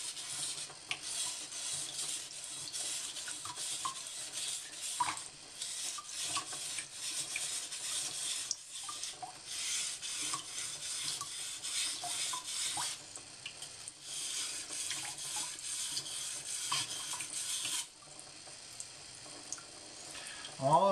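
A kitchen knife edge is ground on a sharpening stone with repeated scraping strokes, moderately loud and close, in a steady rhythm with brief pauses between passes.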